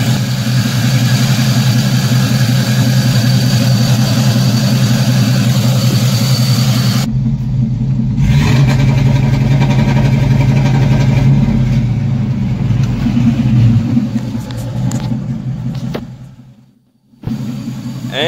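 An LS V8 swapped into a Chevrolet S10 with a five-speed, revving against an MSD two-step limiter at a set RPM: a loud, steady, close engine drone that shifts pitch partway through and dips briefly near the end.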